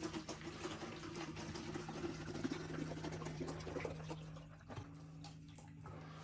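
Water runs into a small one-gallon pot for watering indoor fig trees, a soft continuous trickling and filling sound with a low steady hum beneath, faint and close.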